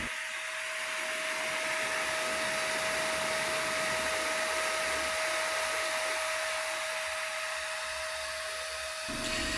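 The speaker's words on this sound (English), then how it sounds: "The charger has an aluminum die-cast housing and a fan to cool it." The cooling fan inside an aluminum die-cast battery charger for a LiFePO4 lawn tractor battery runs steadily, a constant airy whir with a fixed tonal hum, heard close and alone throughout.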